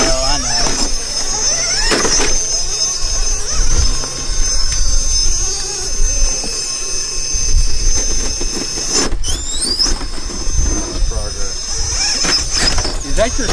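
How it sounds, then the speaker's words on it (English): Off-road vehicle axle grabbing at an outlaw get-together, with recurring high squeals and grinding over a constant engine drone, people talking nearby throughout. "you hear the axle grabbing"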